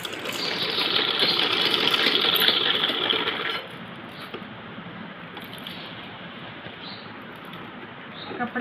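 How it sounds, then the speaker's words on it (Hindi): A sewing machine stitches fabric pieces together from the right side, whirring steadily and close for about three seconds before stopping, followed by quieter room sound and faint handling. "अब सीधी तरफ से सिलाई करेंगे इनके आपस में हम इस तरह से"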